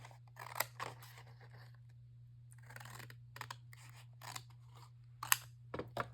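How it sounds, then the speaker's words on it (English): Scissors trimming paper for a shaker box card, several quiet crisp snips and rustles spaced irregularly, close and faint over a steady low hum, with no talk. "I'm going to trim this so I'm not cutting unnecessarily."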